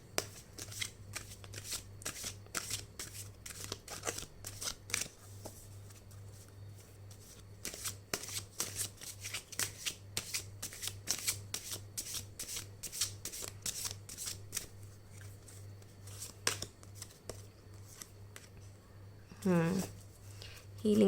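Tarot cards being shuffled, a long run of brisk rhythmic riffles and flicks close by, continuing steadily with a soft rustle near the end.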